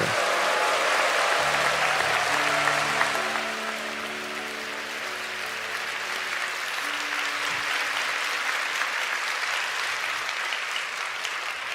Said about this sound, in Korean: 우리 큰 박수 함성으로 우리 목사님을 맞이하겠습니다.